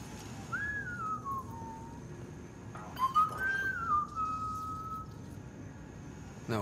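Two clear melodic whistled phrases from a character in the video game Mass Effect Andromeda, each sliding down in pitch, heard close over a quiet background hum.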